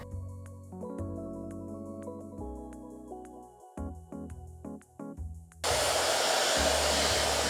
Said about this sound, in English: I'm just using a hairdryer to dry the paint faster in between layers